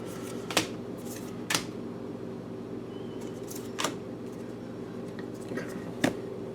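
Animal oracle cards are handled in a few sparse, soft snaps and slides, about five distinct close touches spread apart over a steady low room hum, with no voices.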